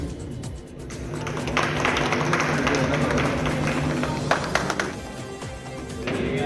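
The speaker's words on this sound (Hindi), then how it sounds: "जोरदार तालियां की" An audience at a social organisation's public event applauds, with a dense patter of many hands clapping that swells, holds for a few seconds, then thins out.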